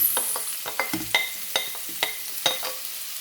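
Onions fry in a hot pan, with a low sizzle under a series of sharp spoon scrapes and taps that come at irregular intervals, close and fairly crisp.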